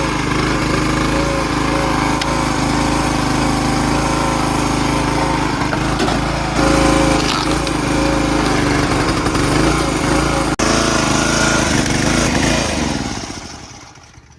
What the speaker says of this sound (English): let's see what happens when we start splitting wood